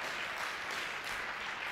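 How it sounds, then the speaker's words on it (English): A conference audience gives a round of applause, dense and even throughout. The clapping sounds fairly soft and somewhat distant, with no voices over it. "So please give him another round of applause for the fantastic job."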